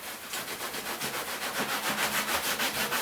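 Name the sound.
rubbing Triplewax textile cleaner in with a microfibre cloth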